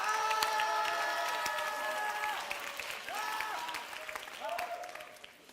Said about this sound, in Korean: 우리 선생님들 위해서 박수 한번